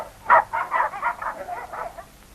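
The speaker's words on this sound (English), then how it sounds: "Dogs barking round the pond." Several dogs bark in a quick, fairly close run of about eight yaps near a pond, sharp at first and then fading slightly, with no talking.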